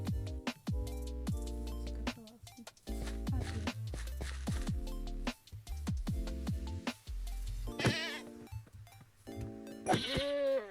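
Goats bleating in modded Minecraft, several nasal bleats in quick succession over bright looping game music with plucked tones, some calls rising louder near the end.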